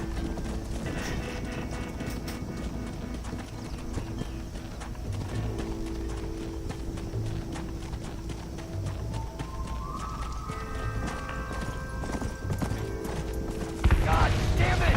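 Galloping hooves of a cattle herd stampeding in Red Dead Redemption, with horse clip-clop and rumble continuous and loud throughout, a rising musical tone layered in, and voices talking over it.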